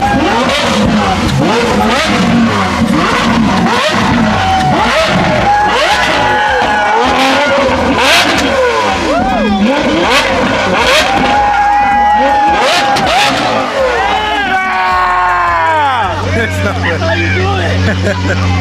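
A Lamborghini SVJ revving hard amid a crowd, with loud repeated engine blips and rising, falling roars, then a sustained tire squeal and settling idle near the end, under constant crowd chatter.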